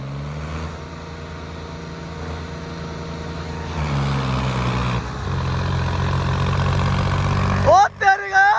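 Swaraj 855 tractor engines labouring in a tractor tug-of-war, a steady heavy low drone that rises in loudness partway through, with a crowd shouting and talking over it.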